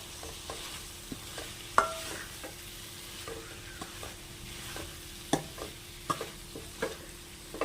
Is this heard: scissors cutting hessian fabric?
no